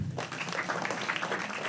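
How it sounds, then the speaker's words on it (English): An audience at a high-level meeting claps steadily for a moment, a dense patter of applause from many hands at moderate distance. "Let's give him another round of applause"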